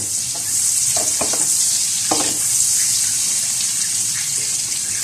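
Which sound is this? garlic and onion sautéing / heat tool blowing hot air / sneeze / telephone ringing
garlic and onion sautéing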